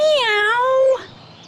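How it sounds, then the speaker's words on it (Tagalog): A single loud, close cat meow that rises and then falls, ending abruptly and followed by near-silence. "Meow, says Kenny."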